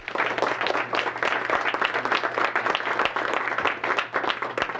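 An audience at a real estate sales seminar gives sustained applause, many hands clapping in a dense, continuous patter with slight swells, fairly loud and without speech over it.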